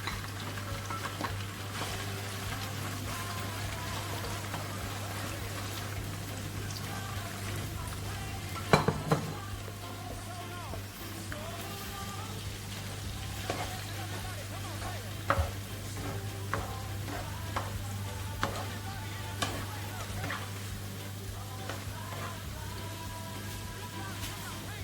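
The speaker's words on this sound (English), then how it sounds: "Here is the liver I sliced, so I have to fry it" Sliced liver frying in a pan for fried rice, giving a steady, even sizzle throughout with a few soft clinks and scrapes of stirring.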